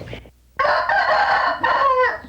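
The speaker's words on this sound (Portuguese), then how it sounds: "E galo cantou" A fighting rooster crows once, close and loud, in a long ragged call following a brief cluck.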